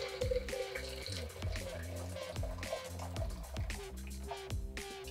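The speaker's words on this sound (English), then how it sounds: "So all you do is pour some water in the blender." Water pouring into a blender jar during kitchen cleaning, a close, quiet stream with gurgling, splashing and drips, plus some clunks as the container shifts.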